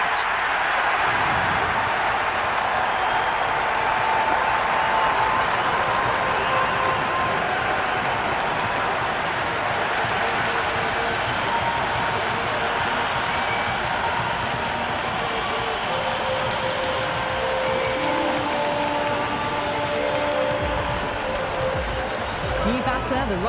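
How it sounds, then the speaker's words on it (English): Cricket crowd in the Cricket 26 video game, India versus West Indies, applauding and buzzing from the stands as a steady, dense roar of clapping and cheering that holds loud throughout. "It's the most enthusiastic crowd you could ever see right now."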